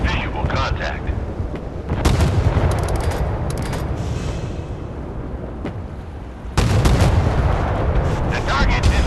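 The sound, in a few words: warship artillery fire in the video game Force of Warships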